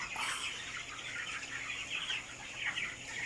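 A flock of 25-day-old broiler chickens on a farm clucks and peeps in a dense, continuous chorus, quiet and somewhat distant, with no talking.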